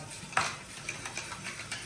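Salted curd is beaten in a bowl, faint quick scraping and tapping strokes of a utensil repeating in a soft irregular rhythm.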